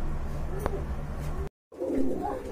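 Racer pigeons cooing in a loft, a soft low murmur of coos with a brief sharper call, close by, cut off by a short gap before more cooing resumes.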